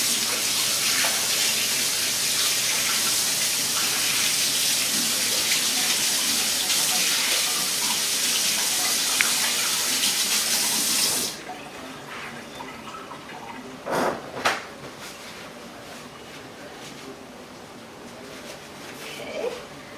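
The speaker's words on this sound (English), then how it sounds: "I'm just gonna wash my hands." A kitchen tap runs steadily and loudly while hands are washed during ginger snap baking, then the water shuts off and a few faint splashes and clinks follow.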